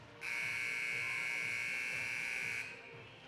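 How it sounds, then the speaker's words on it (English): The pregame clock buzzer at a girls' high school ice hockey game, one long, steady, piercing electronic tone sounding for over two seconds in a rink, loud against faint background crowd noise. "That was the buzzer for the end of the pregame clock"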